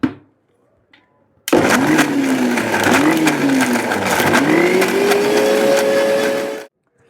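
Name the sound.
grinder grinding peanuts into peanut butter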